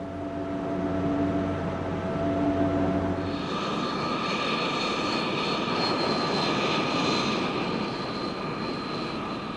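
Vought F8U-3 Super Crusader jet fighter with a Pratt & Whitney engine, a loud steady roaring jet drone that shifts into a broader rushing roar partway through and holds for several seconds.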